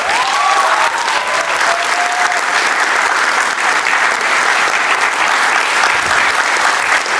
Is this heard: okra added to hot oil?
no